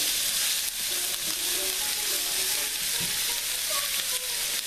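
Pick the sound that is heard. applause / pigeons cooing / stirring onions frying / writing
stirring onions frying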